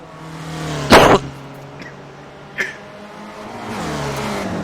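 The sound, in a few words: race cars passing in a sim racing video game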